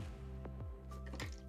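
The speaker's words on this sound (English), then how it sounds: "So I'm going to pour a little bit of alcohol in here." Rubbing alcohol poured in a small amount onto a nail art dip powder marble design, heard as soft close drips and wet trickles over a quiet steady background.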